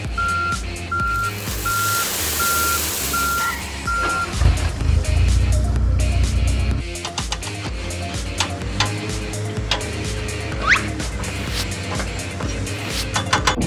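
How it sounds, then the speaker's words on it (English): A sand truck arriving at a road construction site, its reversing beeper pulsing steadily over a heavy engine rumble, followed by mechanical clanks and rattles, close and loud. "The truck carrying sand has arrived at the construction site."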